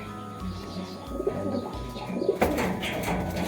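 Racing pigeons coo in a loft, soft low throaty calls repeating close by amid faint background rustling and noise.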